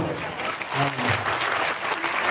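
A crowd at an Islamic religious lecture claps steadily and fairly loudly throughout, with a voice briefly audible beneath the applause.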